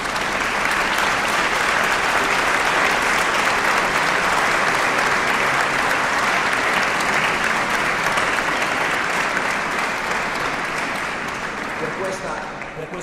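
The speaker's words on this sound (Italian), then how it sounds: "Quindi un speciale applauso" Sustained audience applause in a church after a performance of Mozart's Requiem K626 in Milan, a dense, steady wash of clapping that fades slightly toward the end.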